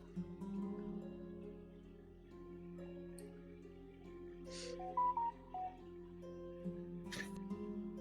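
A phone notification chime sounds during a Swords of Verlis session, a short bright tone with a couple of quick blips standing out faintly above a steady low hum of game background.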